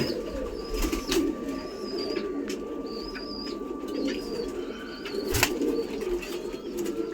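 Pigeon cooing at a loft where birds perch in pairs, soft repeated coos over a steady murmur of a flock, with a few wing flaps and a sharper bird call near the middle.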